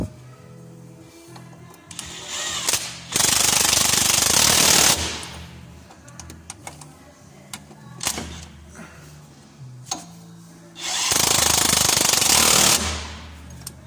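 A pneumatic impact wrench tightening the top bolts on a Land Rover Defender Td5 A-frame ball joint, two loud rattling bursts of a few seconds each, close up, separated by quieter clinks and workshop knocks.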